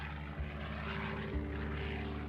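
A Curtiss P-40 fighter plane drones past with a loud, steady propeller engine roar, its deep, throbbing pulses coming through clearly and without a break.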